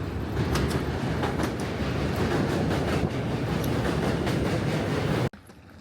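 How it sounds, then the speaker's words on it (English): A train arrives at a station, a loud, continuous rumble with rhythmic clattering of wheels on rails that fills the scene before cutting off abruptly. "Oh, my train's coming."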